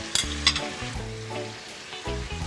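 Shrimp cooking in butter in a hot pan for shrimp and grits, a close, lively sizzle with sharp crackles and pops near the start and a tonal hum running beneath it.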